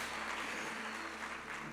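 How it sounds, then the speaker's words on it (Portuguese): A church congregation claps steadily and densely, a continuous wash of applause filling the whole moment without pause. "Pode aplaudir o Senhor, né?"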